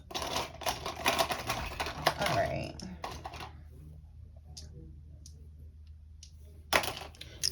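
Dice rattle and clatter in a rapid burst of hard clicks, then sparse ticks and a final clatter, with a voice speaking briefly.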